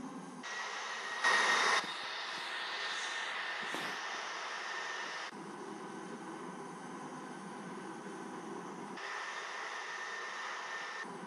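A Concorde takes off from runway 08 at Hilo in the Infinite Flight simulator game, a steady broadband engine roar that holds throughout at an even level, with a brief louder burst early on.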